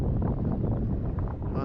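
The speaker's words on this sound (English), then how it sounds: "What a sudden gust of wind." Sudden gust of wind buffets the microphone at an RC flying field where a Tecnam 2010 model plane flies from grass, a dense low rumble filling the whole clip.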